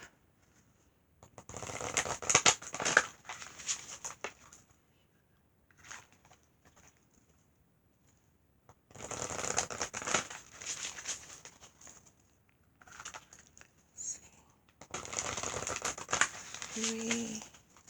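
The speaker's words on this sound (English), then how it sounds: "Do a rifle shuffle in my lap." Oracle cards are rifle-shuffled in a lap, making three long bursts of rapid riffling and flapping, each followed by a brief shuffle or tap, with quiet pauses between them.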